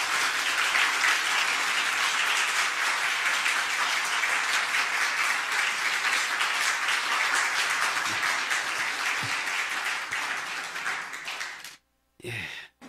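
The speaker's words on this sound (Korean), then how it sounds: "우리 힘차게 우리 박수 부탁하겠습니다" Loud, sustained applause from a church congregation welcoming a pastor to the pulpit, a dense steady wash of clapping lasting about twelve seconds before cutting off abruptly.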